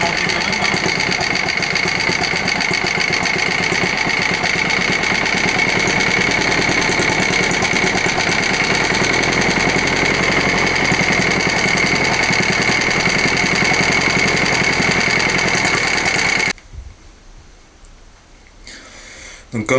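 A repaired Bernard BM4 lawn mower engine, fixed with a new ignition condenser and fuel inlet filter, runs steadily and loudly at close range for about sixteen seconds, then cuts out abruptly, leaving near silence.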